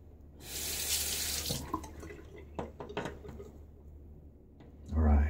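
A safety razor, a Schick Dial Injector, is rinsed under a running tap, with a burst of gushing water, then clinks and drips as the razor is handled, ending in a low thump.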